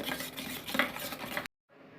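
Egg mixture with green chillies and onion being stirred in a bowl for an omelette dosa, a close, steady scraping and clinking that stops abruptly near the end before a faint return.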